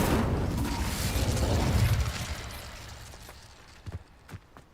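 Incendio fire spell cast in the Hogwarts Legacy video game, a loud low whooshing burst that swells over two seconds and then fades, followed by a few brief pops near the end.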